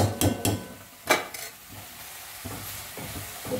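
Cabbage curry with coriander paste being stirred in a pan, a spoon scraping and clacking in a few quick strokes over a soft background sizzle, close and fairly quiet.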